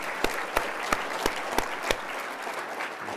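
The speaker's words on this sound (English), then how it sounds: "Can we get a hand clap for that too?" A keynote audience at a conference claps in response to a call from the stage: a steady wash of crowd applause with a few sharp, evenly spaced louder claps standing out early on, then fading slightly.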